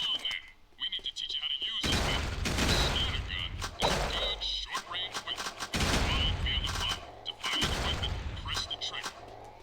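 Gunfire from a weapon in the video game Jak 2, loud bursts of rapid shots arriving in several waves with brief gaps between them, while a person talks over the action.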